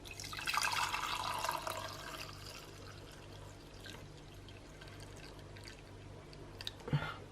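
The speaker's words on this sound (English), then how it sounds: "I'm just going to very carefully pour my hot chocolate out." Thick European-style hot chocolate poured carefully into a mug, a soft steady liquid pour and trickle for several seconds, fading slightly, with a small clink near the end and no talking.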